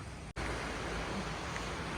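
Sea waves on the coast beside Aguada Jail in Goa, a steady broadband surf roar with wind across the microphone, broken by one brief dropout near the start, with no voices.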